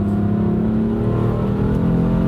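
A BMW M3 F80 fitted with a Burger Tuning JB4 tune, rated around 480 wheel horsepower, pulls hard under acceleration on a bumpy North Texas road, giving a loud, steady engine drone heard from inside the car.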